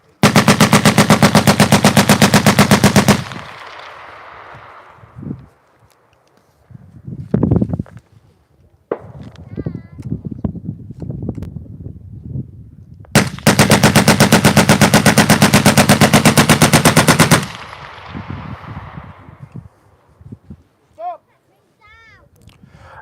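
A Vickers machine gun fires a commemorative 50-round burst in two long, loud, rapid strings of shots separated by a pause with handling clatter and faint movement between.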